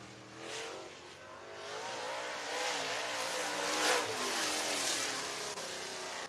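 Dirt race cars run hot laps at Talladega Short Track in Alabama, their engines roaring and revving continuously at a distance, swelling and fading as cars pass, with no talk over the noise.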